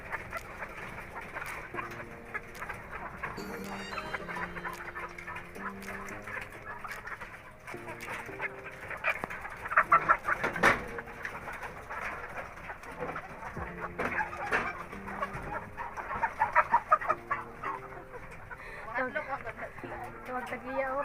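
Chickens in a rural yard clucking and calling over continuous background music or singing, with a voice talking at times; the birds sound moderately close and keep up an irregular chatter.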